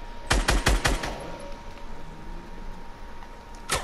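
Gunfire in a video game: a quick burst of five or six loud, sharp automatic shots up close, then a quiet stretch of low background hum before one more shot at the end.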